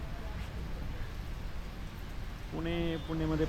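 First monsoon rain falling in Pune makes a steady, soft hiss throughout, with a voice speaking briefly over it toward the end.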